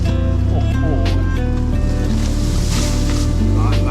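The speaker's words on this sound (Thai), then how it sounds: "เดี๋ยวมีลุยน้ำแช่ด้วย ไอ้กระเด็นเข้ามา" Off-road buggy on a mountain trail at Khao Lia, Si Racha, Chonburi, driving through water: a steady engine drone with washing, splashing water throughout, close and loud, with speech over it.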